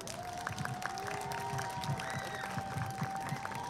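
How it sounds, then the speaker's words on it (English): Audience at a children's creature-teacher show applauds, a dense continuous patter of clapping with some cheering mixed in, steady and fairly loud from start to finish. "Give them a big round of applause."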